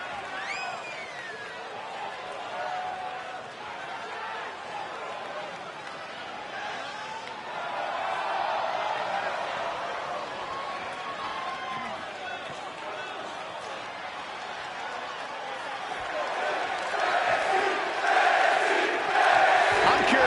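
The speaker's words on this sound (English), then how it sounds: "Listen to this crowd, guys. They're fired up for this one." Wrestling crowd in the WWE 2K20 video game cheers in a steady, moderately distant roar, swelling louder toward the end with scattered shouts and whistles over the wash of noise.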